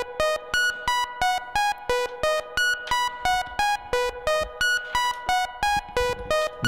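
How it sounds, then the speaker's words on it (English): An ARP 2600 synthesizer plays a repeating sequence of bright, evenly spaced notes with sharp clicky attacks, its reverb routed through an envelope follower, leaving a warbling wash running faintly behind the steady pattern, with no voices. "You can hear the reverb kind of running along in the background there."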